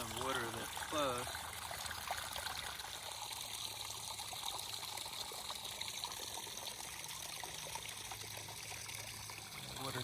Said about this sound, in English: A lot of water flowing.